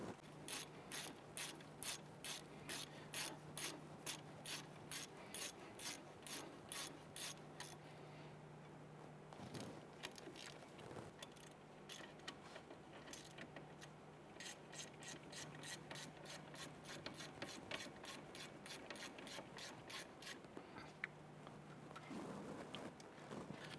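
Ratchet wrench snugging down bolts on a 1999-2004 Jeep Grand Cherokee during a CV axle job: rapid, close clicking in long bursts with short pauses between strokes, crisp and steady, no voices.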